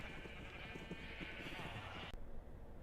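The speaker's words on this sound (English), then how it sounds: "And then I have all these sheep here so I can get wool really quickly." Sheep bleat in the video game Minecraft, several short bleats over a steady background, with a person talking over them.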